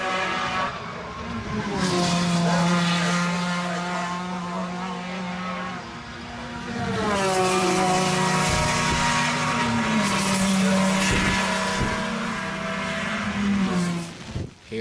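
500cc race cars at Kirkistown circuit sweep past at a race meeting, high-revving engines whining loudly and shifting pitch as they pass close by, one after another.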